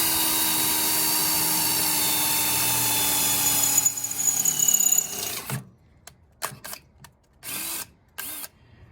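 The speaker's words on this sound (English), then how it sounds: "This drill bit might take a little bit longer." A power drill with a 5/8-inch bit whirs steadily at high speed for several seconds, then winds down and stops, followed by a few short bursts and pauses.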